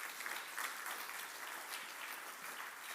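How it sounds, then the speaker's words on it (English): An audience at an award ceremony claps steadily to welcome a guest arriving from Kyiv, an even wash of applause throughout. "please give him a warm round of applause"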